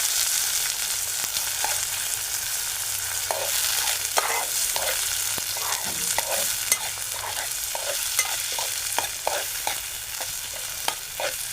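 Finely chopped onion and tomatoes sauté in a hot pan, a constant close sizzle with repeated rhythmic spatula scrapes and taps as they are stirred.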